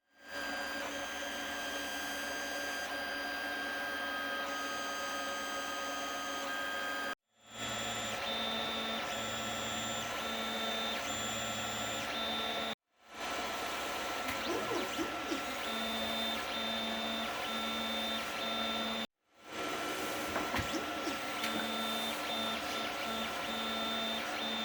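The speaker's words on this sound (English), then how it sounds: "hopefully you'll see a bit of footage of the 3D printer at work doing this bracket" A 3D printer prints a small plastic bracket, its stepper motors whining in steady, pitch-shifting tones over a constant fan hum, heard up close across several cuts with no talking.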